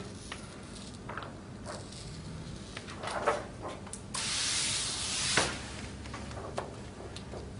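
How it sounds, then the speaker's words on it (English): Several short hissing sprays from a spray bottle wetting the adhesive of an optically clear film on glass, spaced irregularly, with a longer continuous spray midway, close and moderately loud. "we're going to continually spray it with water on the adhesive"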